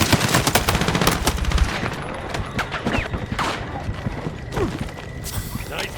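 Gunfire in a Battlefield 6 campaign battle at Moving Mountains: rapid automatic bursts and scattered single shots, loud up front and then thinning, with mechanical clatter and voices underneath.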